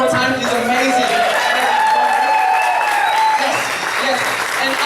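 An audience at a Kids Who Care community event claps continuously and loudly for about five seconds, with a presenter's voice running over the applause.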